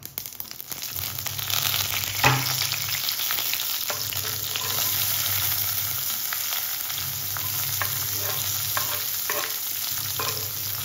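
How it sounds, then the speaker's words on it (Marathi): Continuous crackling sizzle of mustard seeds and chilies frying in hot oil, close by, with periodic scraping stirs and a low steady hum underneath. "याच्यामध्ये तेल उकळल्यानंतर त्याच्यामध्ये मोहरी, मिरची थोडी जास्त टाकते"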